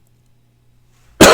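A man's loud, harsh cough bursts in close to the mic after a second of near silence, a single heavy fit that fills the end of the moment.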